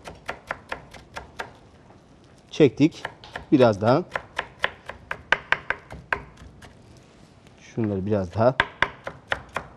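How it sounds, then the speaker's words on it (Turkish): A knife chops vegetables finely on a board for a Turkish sea bass stew, quick rhythmic taps repeating steadily and close, with someone speaking briefly in between. "ufak ufak doğrayalım."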